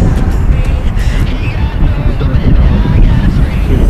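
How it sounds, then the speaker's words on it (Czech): Rushing water from three or four waterfalls in the Swiss Alps, a steady loud roar with gusty wind noise across the microphone throughout, with no breaks. "3-4 vodopády za mnou."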